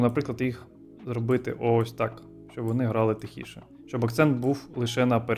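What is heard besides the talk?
None of the usual background noises is heard.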